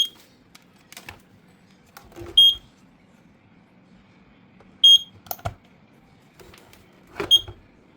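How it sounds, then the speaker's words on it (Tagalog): A conventional FDAS fire alarm control panel with an AC power fault gives short, sharp electronic beeps at irregular intervals, mixed with faint clicks and handling noises in a quiet room. "Ayan ka Gencon, nawala na yung alarm"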